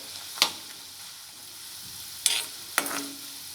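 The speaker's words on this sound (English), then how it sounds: "Let the garlic and the chilies fry." Garlic, green chilies and curry leaves frying in oil for tomato chutney, a soft continuous sizzle broken by three sharp clanks of a spoon against the pan, no voices.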